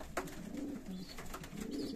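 Pigeons in a loft giving soft, repeated low coos in overlapping throaty phrases, close but quiet, with light rustling and no talk.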